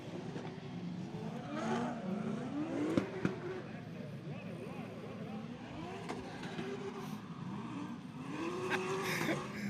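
Drift cars run laps at a race track, with engines revving and whining up and down at a distance, tires faintly screeching, and voices talking over the moderate, continuous motor noise.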